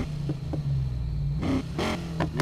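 A car with an RB26 engine in Need for Speed Payback drones low and steady, then revs up in a few sharp bursts, each rising and dropping quickly.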